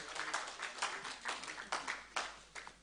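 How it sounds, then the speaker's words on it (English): Conference audience clapping in a hall, a dense continuous patter of many hands with a few louder bursts, fairly distant and even throughout. "Keep on clapping"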